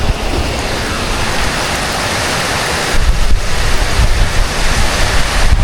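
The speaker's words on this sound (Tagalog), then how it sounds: "At medyo malakas yung hangin." Strong wind with rain, a dense continuous hiss of rainfall under gusting wind roar that swells louder halfway through, steady and close with no voices.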